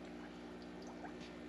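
Water gently circulating and trickling through a homemade bait tank filter, a soft, steady, continuous flow with a faint pump hum, heard alone and quietly.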